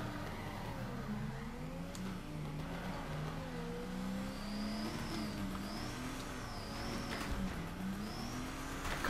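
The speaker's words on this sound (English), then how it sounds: "Oh, we're drifting wide." A car drifts through a Long Beach course in Torque Drift, its engine droning and rising and falling with throttle, overlaid by a wavering tire squeal. The sound is steady and moderately quiet, with no voices.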